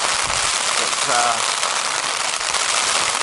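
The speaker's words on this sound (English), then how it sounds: "It's been raining for an hour or two." Heavy rain drums steadily on a tent during a wet winter camp on Dartmoor, a dense constant hiss close overhead, with a brief spoken word partway through.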